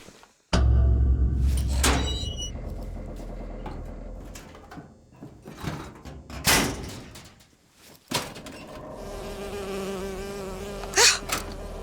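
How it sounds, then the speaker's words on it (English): A bee buzzing in Bioshock Infinite, a fairly loud drone near the listener that comes and goes in bursts across the clip, mixed with thuds and other game sounds, with no speech. "Oh, it's a bee. I hate these things."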